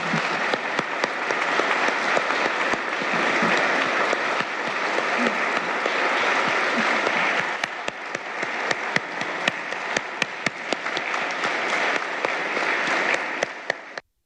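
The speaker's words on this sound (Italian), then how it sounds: "E proprio nel giorno della polizia è stato dedicato un lungo applauso all'ex questore di Trieste, Pietro Ostuni." A crowd gives former Trieste police chief Pietro Ostuni a long applause on Police Day, sustained dense clapping that thins into scattered claps toward the end before stopping.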